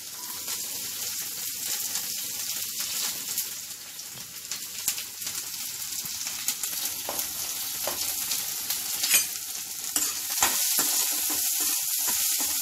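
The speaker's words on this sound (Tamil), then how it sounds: "லைட்டாக இந்த வெங்காயம் வதங்கட்டும்" Chopped onions sauté lightly in oil for homemade samosa filling, a loud continuous sizzle and crackle close up, with occasional stirring scrapes throughout.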